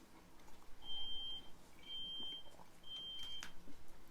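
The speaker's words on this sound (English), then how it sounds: "Somebody else's alarm's going off." Three electronic alarm beeps, each a steady high tone lasting about half a second, spaced roughly a second apart over a faint background hiss.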